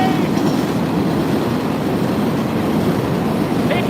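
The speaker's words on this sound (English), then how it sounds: "And there goes the train!" An elevated train rumbles past on the street in Jackson Heights, New York, a loud continuous roar and rattle that holds steady throughout, close by.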